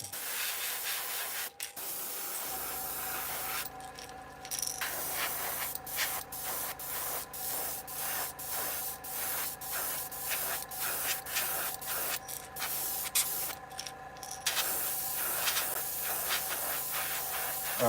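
Paint sprays in steady bursts through a stencil onto a fishing lure, a continuous hiss broken by short pauses and several sharper, louder blasts, close and alone without talk.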